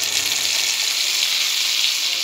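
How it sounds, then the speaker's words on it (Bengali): Cauliflower and potato fry in hot oil in a pan, a continuous bright sizzle that stays even and close, with no talking. "ফুলকপি আর আলু কষানো হয়ে গেছে, এবার আমি সেদ্ধ করা ছোলা ডালটা দিয়ে দেবো।"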